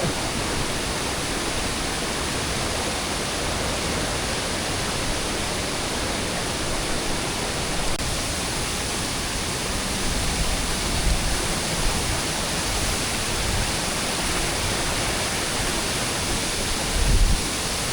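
At Mandaram Nuwara, the tall Elamulla waterfall pours in a constant loud hiss of water from close by, even throughout with slight swells near the end and no speech.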